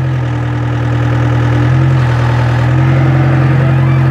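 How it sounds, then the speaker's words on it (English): A bulldozer engine runs loud and close during a pre-start check, a heavy steady drone that steps up in pitch as the revs rise, with no talk over it. "Revs are working."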